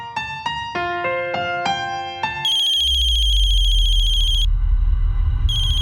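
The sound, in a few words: phone ringtone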